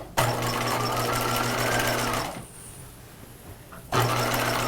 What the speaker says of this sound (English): I start stitching at the raw edge of the fabric, so the side seam of the top,